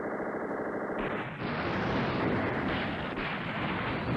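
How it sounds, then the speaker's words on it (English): Artillery fire rolls through the wargame Command Ops 2 as a dense, continuous rumble of blasts and rattling gunfire, steady and fairly loud throughout. "Yeah, artillery's working well here."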